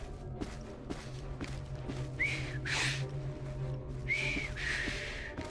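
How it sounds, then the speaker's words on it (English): A character in the video game Assassin's Creed Syndicate whistles in short, bright bursts, two clear phrases over a background of ambient game sounds and soft thuds. "I've just learned to whistle."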